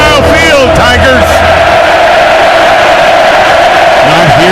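A loud football crowd at Kyle Field roars steadily at a college game between Missouri and Texas A&M, a dense wall of cheering with a commentator talking over it throughout.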